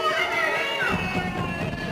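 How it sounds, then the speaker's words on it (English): Loud crowd yelling erupts at a JCPS school board meeting, a mass of overlapping shouting voices filling the room continuously at close range. "Yelling in the crowd stops a JCPS board meeting"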